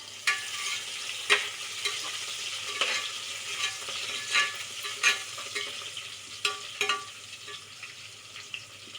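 Mint and coriander sautéing in a pan, a soft steady sizzle broken by regular stirring scrapes and taps of a spoon, fairly quiet and close, with no one speaking.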